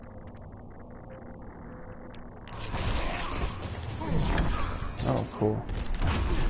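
Mechanical trap in the Mortal Kombat X Krypt: a quiet hum gives way to a loud grinding, whirring spin of blades with metallic scraping and creaks, close and sustained, while a man briefly reacts over it.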